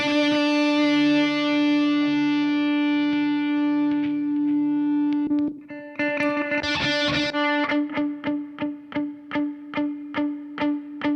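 An electric guitar plays through an overkill pedalboard that includes a Mustang Micro, with distortion and echo: a loud sustained, buzzy chord, then a burst of notes that settles into evenly spaced repeating echoes fading in rhythm.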